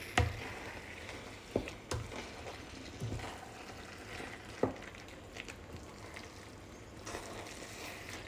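Spiced aubergines being stirred in a frying pan, a soft continuous sizzle broken by occasional scraping knocks of the spoon against the pan.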